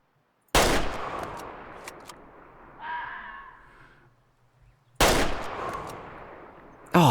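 Two loud, sharp hunting rifle shots ring out in the Way of the Hunter video game, several seconds apart, each followed by a rolling echo, with a brief quieter animal-like call between them.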